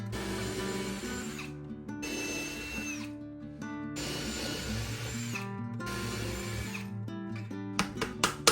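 Power drill boring dowel holes through wooden boards, with tape on the bit as a depth stop; several sustained whirring bursts a few seconds each with short pauses between, ending in a cluster of sharp clicks and knocks.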